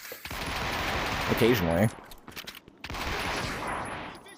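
Rapid automatic gunfire from a weapon in a shooter video game rattles under a man's speech, with a quieter stretch of shooting later on.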